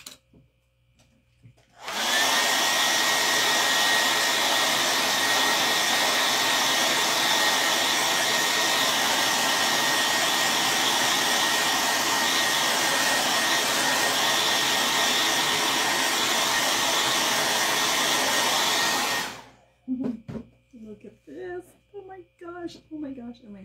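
A hair dryer blows on a wood craft piece, a loud, steady whirring roar that runs for about seventeen seconds before cutting off, followed by faint speech.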